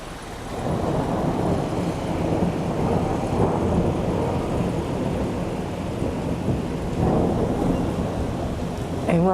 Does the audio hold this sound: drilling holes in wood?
no